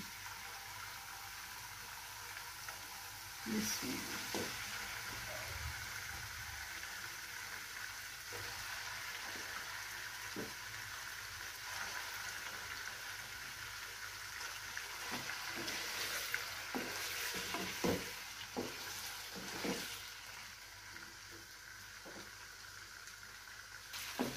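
Steady sizzling and crackling of chicken frying in a pan, with occasional clinks and stirring sounds, continuous and fairly close, no talking.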